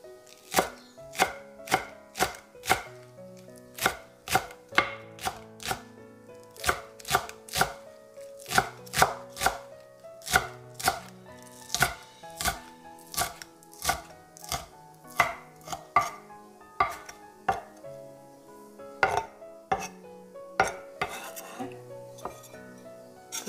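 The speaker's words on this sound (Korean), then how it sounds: "양념장에 들어갈 대파를 썰어 보겠습니다." A kitchen knife slices home-grown green onions (daepa) on a cutting board for a seasoning sauce, giving sharp, crisp chops in quick bursts with short pauses over about twenty seconds.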